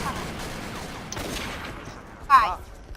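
Gunfire rattles in a video game as the player's character gets shot, heard as a brief burst of muffled shots with one sharper crack near the end, mixed with background game noise.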